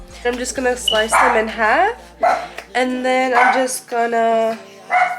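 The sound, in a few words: dogs barking in the house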